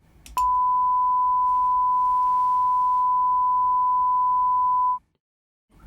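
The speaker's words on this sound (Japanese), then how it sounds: "サイン波を出します。" A steady sine-wave test tone at -9dB from a DAW tone generator, used to calibrate a VU meter, holds one pure pitch for about four and a half seconds, then stops cleanly into silence.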